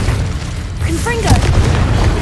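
A Confringo blasting spell goes off in the Hogwarts Legacy video game, giving a low, deep boom that rumbles along under several short, bright magical zips and whooshes.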